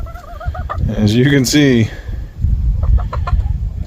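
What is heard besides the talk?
chicken clucking, meat bird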